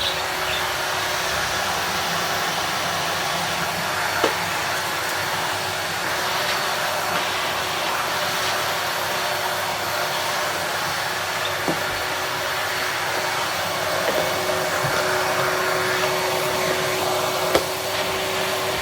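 A Hoover Portapower S1248 portable vacuum cleaner fitted with hard floor brushes runs steadily and loudly throughout, a continuous motor whine with faint bumps as the brush moves.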